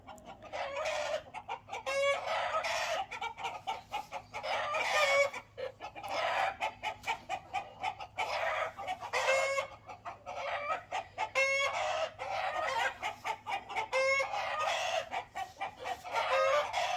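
Backyard chickens cluck and call in bursts before going to roost, repeated close squawks and a crow-like call over a low hum, no talking.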